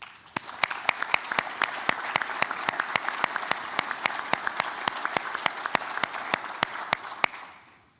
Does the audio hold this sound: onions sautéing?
no